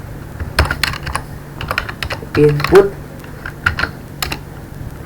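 Fingers tap out code on a computer keyboard in irregular bursts of clicky keystrokes, close up, while someone talks over the typing.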